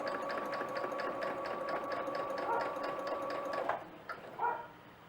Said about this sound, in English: we're going to start that sewing.